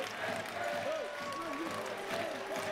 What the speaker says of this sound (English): the Steelers will take the applause from the fans here in the Dundee Ice Arena